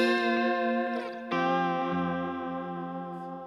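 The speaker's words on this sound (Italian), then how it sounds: "Alziamo un po' i livelli di eco e reverbero." An electric guitar plays sustained notes through echo and reverb effects, with a fresh note struck partway through. The notes ring out smoothly and fade slowly.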